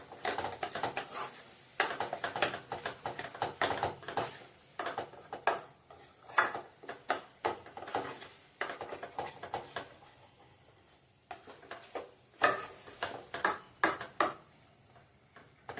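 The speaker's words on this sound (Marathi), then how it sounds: "अर्धा चमचा हळद, 1 चमचा मालवणी मसाला, चांगले मसाले एकत्र करून घ्यायचे।" Metal spoon stirring turmeric and Malvani masala together in a pan for prawn curry, a busy run of clinks, taps and scrapes, sometimes rapid and sometimes pausing, fairly close with no voices.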